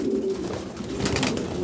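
Pigeons in a loft, with soft low cooing repeated through a steady ambient hiss, fairly close and moderate in level, no speech.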